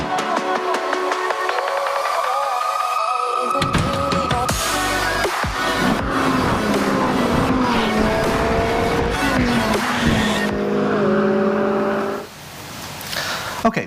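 A McLaren 570S drives in a video game, its engine tone rising and falling through gear changes over a dense, loud mix, with shifting whines and a brief tire-squeal-like texture before the sound drops away near the end.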